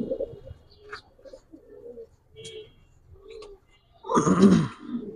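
Pigeons at a fancy pigeon farm cooing close by, low soft repeated coos in a loose rhythm, with a louder burst of rustling and fluttering near the end.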